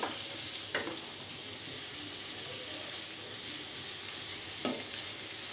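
Onions sizzle steadily in butter in a pan, with a constant hiss and two distinct scraping stirs of a spoon, one early and one near the end.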